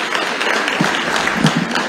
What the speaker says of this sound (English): we need to give them a good round of applause for that